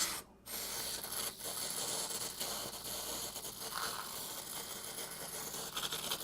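A steady hissing spray of cleaning solution onto arcade machine parts, close and continuous with a short break early on, mixed with faint rubbing and handling noises.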